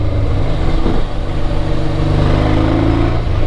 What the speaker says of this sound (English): Listen to that bike. My lord, it sounds so good.